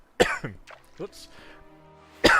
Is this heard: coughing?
yes